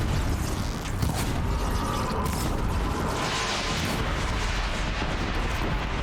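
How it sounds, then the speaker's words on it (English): Loud, continuous rumbling and crackling blasts with mechanical clatter, a dense barrage of explosions in Horizon Zero Dawn during a fight with a Deathbringer machine that never lets up. "There's explosions."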